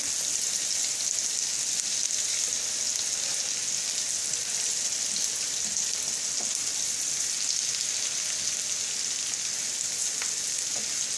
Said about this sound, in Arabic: كتحمر مزيان هاد الزبده.